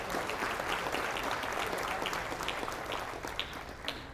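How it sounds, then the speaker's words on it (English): Steady applause from a sizable crowd at a college baccalaureate ceremony, dense clapping that holds at an even level throughout with a few sharper claps standing out near the end. "an extra round of applause for all your friends and your family and faculty"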